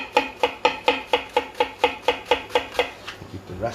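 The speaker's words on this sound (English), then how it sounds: "So we'll get our spring onion. I'm just going to slice that." Knife slicing spring onion on a chopping board, about a dozen quick, evenly spaced crisp cuts at close range with no talking.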